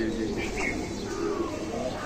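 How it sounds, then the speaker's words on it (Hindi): Pakistani and Indian breed high flyer pigeons coo softly in a loft, low murmuring calls over steady background noise. "ये हाई फ्लायर कबूतर हैं जो कि पाकिस्तान की ब्रीड है और इंडिया की ब्रीड है भाईजान के पास में।"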